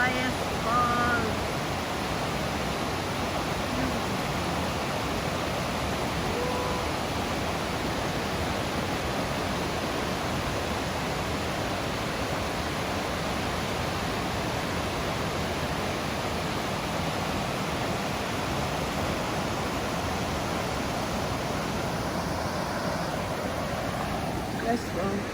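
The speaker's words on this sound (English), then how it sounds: "Waterfalls." A waterfall at YS Falls, Jamaica, heard as a loud, constant broadband roar of rushing water that stays steady throughout, with people's voices faintly mixed in.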